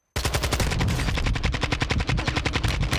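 Rapid bursts of automatic gunfire in a shooter video game, a dense, steady string of loud close shots running almost unbroken for about three seconds with no talking.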